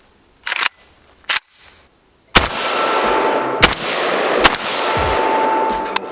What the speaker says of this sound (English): I do have the ALG trigger in here, so I'm gonna shoot this, test fire it